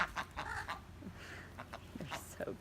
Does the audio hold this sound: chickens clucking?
yes